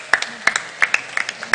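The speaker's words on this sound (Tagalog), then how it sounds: "Dagdagan niyo na po yung palakpak." A church congregation claps at the close of a Mass, sharp hand claps coming in a loose, repeating rhythm, fairly close, over a faint background of voices.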